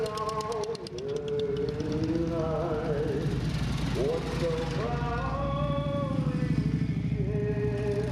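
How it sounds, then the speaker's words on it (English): Vintage motorcycles racing at Wauseon, Ohio, their engines droning loudly and steadily with rising and falling pitch as bikes pass, under a continuous roar that fills the whole stretch. "Thousands of fans getting ready for great motorcycle racing."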